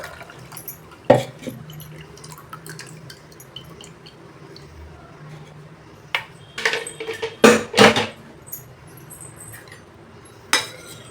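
Ground mango leaf juice is strained in a home kitchen, with scattered clinks of a utensil against a vessel, little splashes and drips of liquid, and quiet gaps between the louder bursts.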